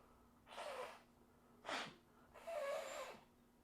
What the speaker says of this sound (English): I got to blow my nose real quick.